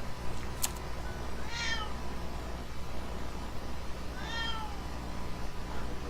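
A grumpy house cat meows twice, well spaced, with drawn-out wavering cries that sit clearly over a constant steady hiss of background noise in an indoor setting.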